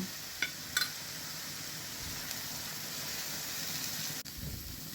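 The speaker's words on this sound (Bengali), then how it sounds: "ভালোভাবে মিশিয়ে নেব মশলাটা" Salt, coriander, turmeric and chilli powder stirred into a hot pan for a gourd and shrimp curry, giving a low steady sizzle with a few short scraping clicks of the spoon.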